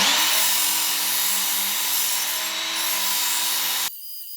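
A soft metal pizza cutter blade ground against a powered sharpener, a loud, steady rasping whine that holds for nearly four seconds, then cuts off abruptly, leaving a quieter hum.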